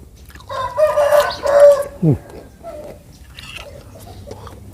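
A rooster crows once, a loud strained call rising and falling over a couple of seconds, followed by fainter clucks and low background noise.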